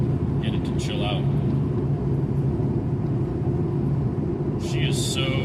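A 17-year-old car's engine held at high revs in fourth gear on a highway, a steady droning rumble throughout with a voice speaking over it.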